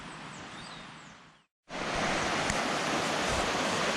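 River water near Los Caballeros waterfall in Suaita, Santander, Colombia rushes in a loud broadband roar, briefly cut to near silence before the steady torrent resumes even louder.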